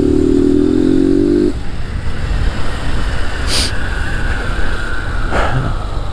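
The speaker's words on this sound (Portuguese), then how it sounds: "Tá frio para andar de moto." Motorcycle ride on a Honda Fan 160 in cold weather, a steady close engine drone with wind rush, a brief higher engine whine at the start before settling into constant cruising noise.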